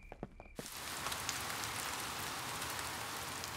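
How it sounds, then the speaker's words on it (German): Rain falling in a Peppa Pig cartoon, a dense steady hiss of rainfall that begins abruptly after a few soft tones and continues evenly without talk. "Es hat die ganze Nacht geregnet und der Garten ist ganz nass."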